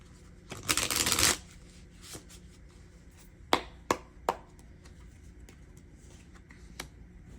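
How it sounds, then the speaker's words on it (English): Tarot cards riffled in a brisk burst, then a few crisp separate card snaps and taps follow in a quiet room, close and fairly soft. "Make sure I shuffle these cards real good."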